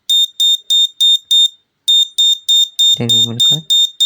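A gas sensor alarm gives sharp, high, evenly spaced beeps, pausing briefly before resuming; a short voice cuts in over a couple of beeps near the end.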